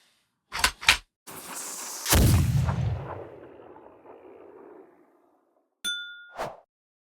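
Cannon-fire sound effect for a pretend book cannon: a couple of sharp metallic clanks, then a loud booming blast that rumbles and fades over a few seconds, followed by a bright ding and a final soft thump.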